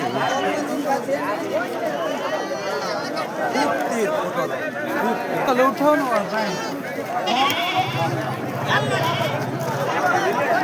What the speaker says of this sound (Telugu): ఇది ఇక్కడ మేకలు అండి